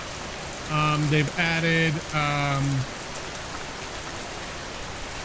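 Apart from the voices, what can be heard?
rain from dynamic weather in video game Schedule I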